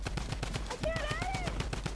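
Rapid drum gun fire in a Fortnite 1v1 match, a dense run of close, loud shots repeating steadily for about two seconds, with a brief tonal sweep of other game sounds partway through.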